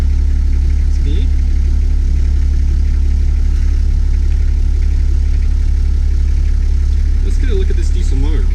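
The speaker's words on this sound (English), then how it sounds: "Let's start this diesel up." A diesel engine idles nearby with a heavy, constant low rumble throughout, while people talk over it.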